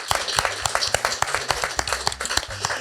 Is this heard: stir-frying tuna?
no